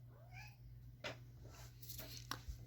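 Cat named Archie giving a brief faint meow at the start, followed by soft knocks and rustling in a quiet room over a low steady hum.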